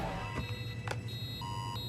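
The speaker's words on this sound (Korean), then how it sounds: "타이탄 경보를 울려버리고" An alarm sounds in a monster-themed drama: faint, steady electronic beeping tones that shift pitch now and then, layered over a low droning hum with no speech.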